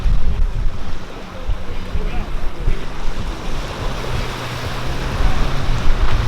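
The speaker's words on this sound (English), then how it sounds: "And here comes Matt in the dinghy." Steady wind and surf noise with a low motor rumble running throughout from a small dinghy approaching on the water off Bimini, Bahamas.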